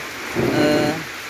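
Heavy rain falls outside with thunder, a steady wash of rainfall that swells into a low rolling rumble for about half a second before easing back to the rain alone.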